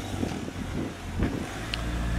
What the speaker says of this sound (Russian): Очень много машин.